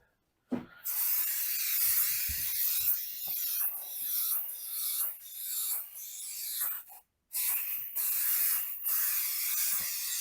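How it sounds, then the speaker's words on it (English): Spray adhesive hisses from an aerosol can onto door padding for a custom VW Beetle door panel, in several bursts of broadband hiss with short pauses between them, close and steady. "And then you want to spray the padding."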